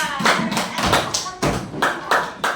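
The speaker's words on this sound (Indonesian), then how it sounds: "Tepuk tangan dulu untuk kelompok 2." A classroom group claps for the second group of students, with uneven bursts of hand claps and taps over a couple of seconds, loud and close, with voices mixed in.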